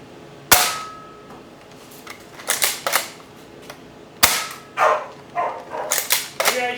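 Shots from a Nerf blaster modified with a 10lb spring: two sharp snapping shots, then clusters of clicks and clattering handling noises, close and loud against a quiet background.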